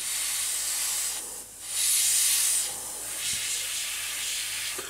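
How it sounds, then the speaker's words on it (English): Air compressor feeding an airbrush for painting a 1/32 F-14A Tomcat model kit, a steady close hiss that swells louder for about a second midway, then settles back to a constant rush. "as my compressor goes on"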